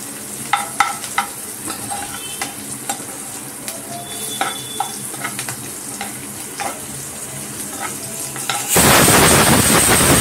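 Onions frying in a pan for cauliflower bharta, a steady close sizzle with scattered stirring scrapes and clinks, swelling into a louder, dense hiss near the end.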